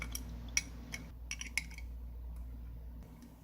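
A utensil stirring an almond mixture, light scattered clinks and scrapes against the bowl, a few sharper taps early on, over a low steady hum.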